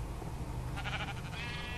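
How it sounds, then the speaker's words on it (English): Sheep bleating in the Minecraft video game, a single soft, wavering bleat rising briefly partway through against a faint background. "Need to go get some shears and shear these motherfucking sheep."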